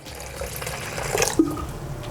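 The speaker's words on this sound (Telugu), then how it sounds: "కాస్తంత వాటర్ వేసుకుందాం." A little water poured into a salted curd mixture for buttermilk rasam, a soft close trickle and splash with a few drips, fairly quiet and without talk.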